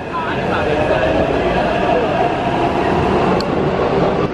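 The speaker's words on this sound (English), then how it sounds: "There goes my train." A loud, steady rumble of a train departing a station in Taipei, Taiwan, rolling past nearby, with a constant roar and a faint high squeal near the end.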